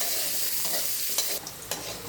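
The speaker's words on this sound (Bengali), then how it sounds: "এবার আমি একটু লাল করে ভেজে নেব" Oil sizzles steadily with a bright hiss as potatoes fry, broken by a few soft scrapes and stirs of a utensil in the pan.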